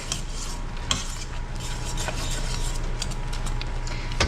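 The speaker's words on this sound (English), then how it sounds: "Give it a nice stir with the fork." Stuffing and seasoning stirred in a pot with a fork on the stove, soft scraping and clinking strokes over a light sizzle, with a sharp metal tap early on.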